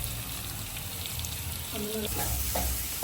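Small shallots hit hot oil and sizzle steadily, with a brief clatter of stirring midway, close and loud throughout, no speech.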